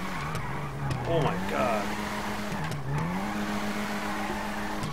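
Tires squeal as a Nissan R34 GTR drifts in GTA 5, a steady engine drone with rising and falling whines under an excited voice.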